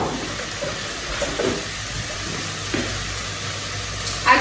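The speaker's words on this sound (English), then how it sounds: "Add water." Water is poured into a hot cooking pan holding chicken and bell peppers, giving a steady hiss and sizzle with soft splashing that runs unbroken for several seconds, with no voices.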